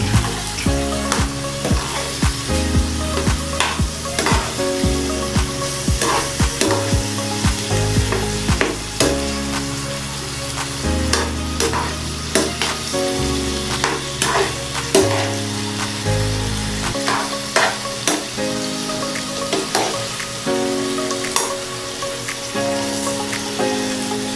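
Sayote, carrot and cauliflower stir-fried with seasoning, a loud continuous sizzle with repeated stirring and scraping strokes, close up over steady background music.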